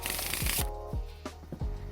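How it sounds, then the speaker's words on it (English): A deck of playing cards is shuffled during a magic trick, giving a brisk riffling burst up front followed by a few scattered soft slaps and flicks of the cards, close and fairly quiet, with no talking. "You can have them shuffle as much as they want."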